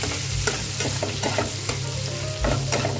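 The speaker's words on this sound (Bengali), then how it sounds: "একটু নুন হলুদ দিয়ে দিলাম, দিয়ে ভেজে নিচ্ছি মাছগুলো আগে ভালো করে" Small fish pieces with salt and turmeric frying in hot oil, giving a loud, steady sizzle with repeated scraping stirs from a spatula, close up and with no voices.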